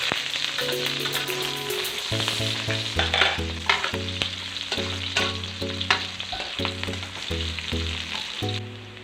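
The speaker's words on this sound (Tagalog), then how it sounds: "Sama ko na yung ating bawang sibuyas" Garlic and onion fry in cooking oil with a bright, steady sizzle and occasional stirring scrapes, while a melodic backing music line plays underneath throughout.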